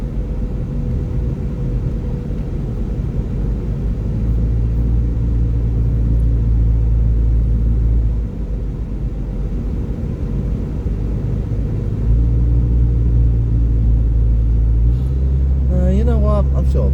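A car engine idles steadily while warming up, a continuous low rumble with a slight rise in pitch near the end.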